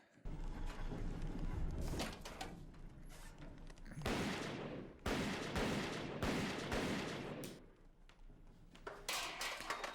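Gunfire from the Tex Murphy Overseer video game, loud repeated bursts of shots in several long volleys with brief gaps, dense and continuous, heard alone without talk.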